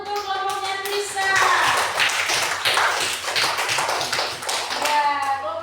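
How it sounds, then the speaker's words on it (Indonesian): A classroom group claps together, a dense burst of hand applause lasting several seconds, with children's voices heard before and after it. "Tepuk tangan untuk kelompoknya Trisa."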